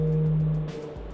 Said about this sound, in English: That is the song of a blue whale.